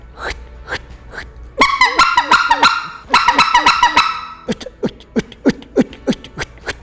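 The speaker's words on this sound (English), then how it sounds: "Let's start off with just a basic cluck." A basic cluck blown on a goose call, the tongue slapping the roof of the mouth: two quick bursts of sharp, close honking clucks, loud and alone, followed by a steady run of single clucks.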